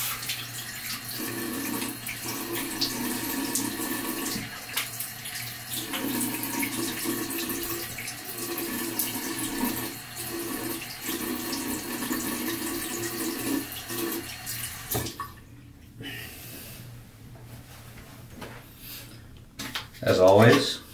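Running tap water pours steadily into a sink as a razor and face are rinsed after a budget wet shave, a continuous close splash that breaks off near the end with a brief louder burst.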